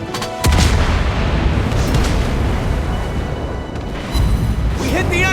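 Cruiser guns firing and shells hitting the enemy in the naval video game World of Warships Blitz, played as the tier VII light cruiser USS Flint, heard as a dense, loud, continuous rumble of booming salvos with a renewed burst near the end.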